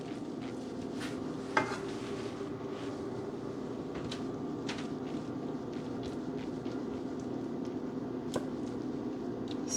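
Vegetables added to a pan for Jamaican-style roasted fish, heard as close clinks and scrapes of utensils over a steady low kitchen hum, with a sharper knock early on.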